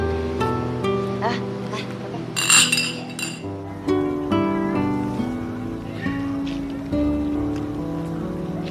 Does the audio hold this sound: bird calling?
no